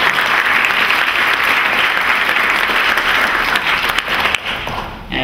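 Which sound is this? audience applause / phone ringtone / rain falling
audience applause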